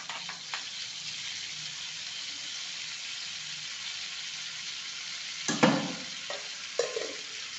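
Butter and oil heating in a kadhai for paneer masala, giving a soft steady sizzle, then a louder clatter of the pan near the end, with no voices.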